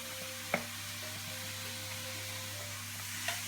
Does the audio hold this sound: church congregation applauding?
no